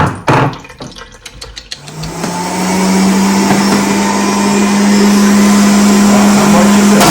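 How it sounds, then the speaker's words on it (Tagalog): Electric juicer processing a carrot: a few sharp knocks and clatters as the carrot goes in, then the motor spins up into a loud, steady whirring hum that holds to the end, with a voice briefly underneath. "Let's juice out of one carrot."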